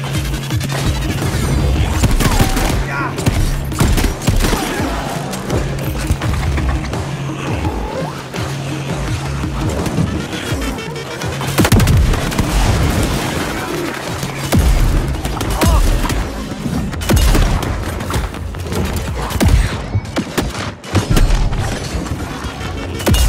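Shotgun blasts and explosions from the first-person shooter Shadow Warrior 3 boom and crash almost continuously at high volume, with heavy impacts and chaotic combat noise layered throughout.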